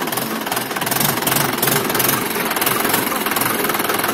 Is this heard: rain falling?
no